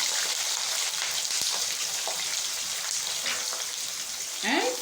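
Onions and curry leaves frying in an oil-filled pan after mustard seeds have spluttered, cooking South Indian vathal kuzhambu; a steady, dense sizzle with crackling pops runs throughout at close range.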